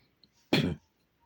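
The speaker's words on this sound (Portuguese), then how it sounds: "estou com um pouco de tosse" A single short, harsh cough bursts out of near silence, close and fairly loud, then fades quickly.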